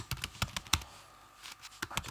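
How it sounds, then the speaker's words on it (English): Typing on a computer keyboard, a quiet run of irregular clicks with a short pause in the middle, close and soft, with no talking. "I just start typing in the course"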